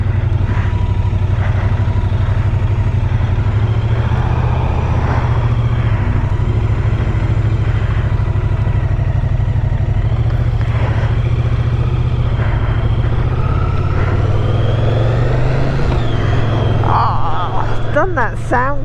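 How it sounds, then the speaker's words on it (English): A Moto Guzzi V100 Mandello motorcycle engine runs with a steady, deep rumble throughout, close and loud, while someone talks over it almost continuously. "I hope the sound of the bike is coming through for you guys."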